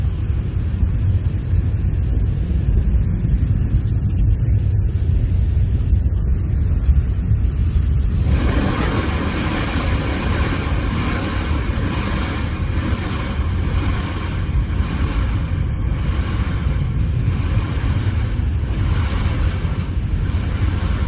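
Blue Origin's New Shepard rocket main engine rumbles during ascent, a continuous deep roar that stays loud throughout, with a pulsing, wavering texture in its upper part during the second half.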